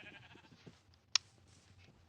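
Bleating from a flock of Minecraft sheep, faint and soft, a few quiet baa-like calls with a brief sharp click partway through.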